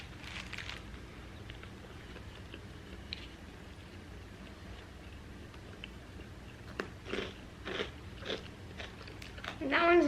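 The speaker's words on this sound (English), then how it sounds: "That one's very crunchy." Crunchy In-N-Out burger being bitten and chewed at close range, a few sharp crunches clustered near the end, with soft background noise and a speaking voice mixed in.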